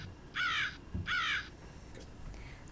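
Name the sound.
crow cawing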